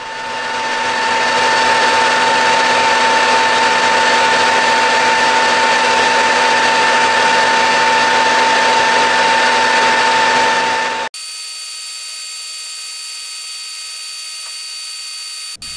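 A lathe faces off CZ121 brass with a polished carbide insert, making a loud steady whine with strong tonal hums that cuts out sharply near the end, leaving a fainter constant motor drone.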